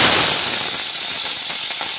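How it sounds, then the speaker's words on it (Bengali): Food frying in hot oil in a village kitchen while cooking okra with mustard paste, a loud, dense sizzle and crackle close by that starts strong and eases slightly into a steady hiss. "তেল দিয়ে দিলাম, ভাজাটা প্রথমে বসিয়ে দিই"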